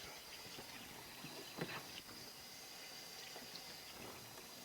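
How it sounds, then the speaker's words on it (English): Warm tap water splashes steadily onto a denim jacket in a sink, quiet and close, with a few soft handling knocks. "I'm going to get it all wet first. Got on the warm water."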